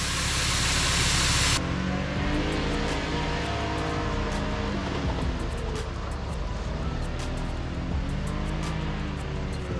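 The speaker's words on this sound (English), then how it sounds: "take out some of the air from the tire" Air bursts from an off-road vehicle tire being deflated on a rough trail at McLean Creek, a loud, steady hiss for about a second and a half that gives way to a constant low rumble of wind and engine noise.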